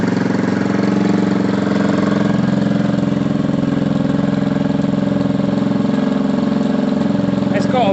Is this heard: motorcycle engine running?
yes